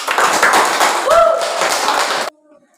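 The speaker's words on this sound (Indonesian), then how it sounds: "tepuk tangan dulu teman-teman" Students clapping in a classroom during a teacher-training lesson, a dense, fairly loud burst of hand claps lasting about two seconds and then stopping abruptly, with some voices mixed in.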